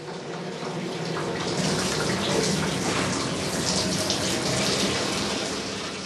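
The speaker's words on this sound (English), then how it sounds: "the hot wax-water mixture runs into a wooden tub" A steady gush of hot wax-and-water mixture from beekeeping pours into a wooden tub, a continuous splashing rush that swells a little louder partway through, with no voices.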